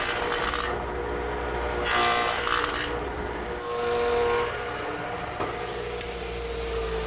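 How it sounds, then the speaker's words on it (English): Radial arm saw fitted with a stacked dado head plowing a shallow half-lap across redwood with the arm swung to 45 degrees, continuous close grinding buzz with brief louder surges as the cutter bites. "I've equipped my radial arm saw with my stacked dado head cutter and swung the arm around to 45 degrees. Now I'll just plow it out."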